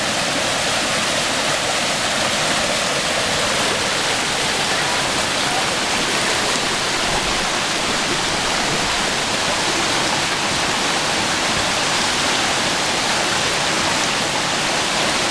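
A river rushes over rocks at a campsite along Graves Mill Trail, a loud, constant broadband roar that stays steady throughout.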